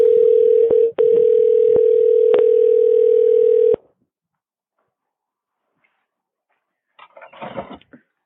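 A telephone dial tone before a call drones loud and steady for nearly four seconds with a few brief clicks, then cuts off into silence before faint rustling noise near the end.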